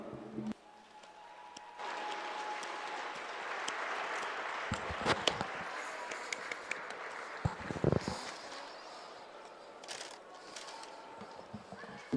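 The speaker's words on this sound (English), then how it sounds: "Please give a warm round of applause to Candy Borah." Audience applause during a presentation at a college wrestling dual meet in a gym, moderate and sustained for about ten seconds with a few louder claps and faint crowd noise, trailing off at the end.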